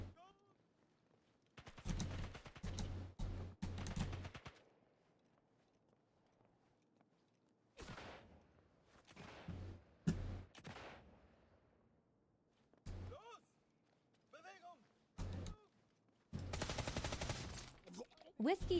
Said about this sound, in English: I could use this SMG.